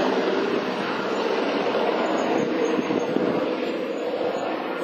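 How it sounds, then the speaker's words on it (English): A steady, droning rescue helicopter hums overhead at a moderate distance near Cave Creek, its rotor noise holding constant and fairly loud throughout. "there's a rescue helicopter"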